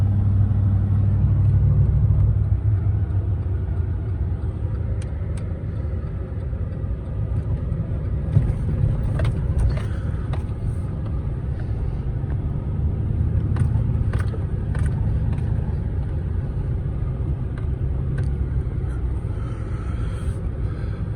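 A 2013 Chevy Silverado pickup truck cruises along, its engine and tire rumble forming a steady low drone from inside the cab, with faint light clicks and rattles.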